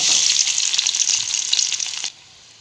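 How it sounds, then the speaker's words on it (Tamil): Onions sizzling steadily in hot oil in a pan, a dense bright crackle for about two seconds that then cuts off to near silence, with no voices. "எண்ணெயில் நல்லா பொன்னிறமாக வதக்குங்க"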